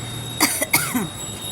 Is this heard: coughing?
yes